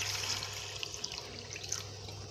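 Warm water pours into a pot holding fried eggs, making a soft continuous splashing with a few faint drips over a low steady hum.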